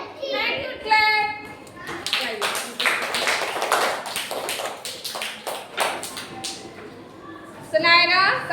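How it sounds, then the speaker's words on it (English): Children in a classroom clap together in short irregular bursts, sharp taps clustering through the middle, with a voice speaking briefly at the start and end. "Thank you, clap."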